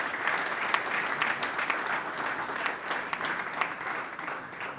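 Audience applause fills a maritime industry conference hall in Nigeria, a dense, steady clatter of many hands clapping at an even level throughout, with no voices rising above it.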